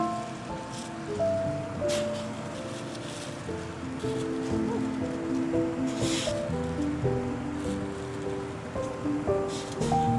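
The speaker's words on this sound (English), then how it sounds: "Now that the water is boiling, I'm gonna put the meat in for 5 minutes" Water boils in a pot while preparing a Korean dish, with meat about to go in: a steady, hissing bubbling wash that runs continuously under soft background music.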